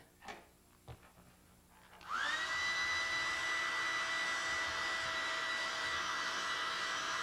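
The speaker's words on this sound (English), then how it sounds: "take that to your speed dry" A speed dryer kicks on after a few soft clicks and blows a steady, loud, high-pitched whoosh of air to dry contact cement for a knife sheath build.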